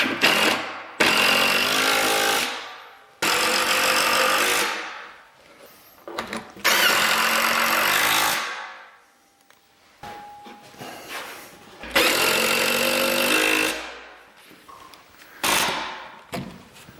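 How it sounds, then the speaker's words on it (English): Loud router bursts whining through wood while flush trimming cabinet parts, several separate passes of a few seconds each with brief quiet gaps between, close up and alone. "let a little extra hang out and then come back and flush trim it"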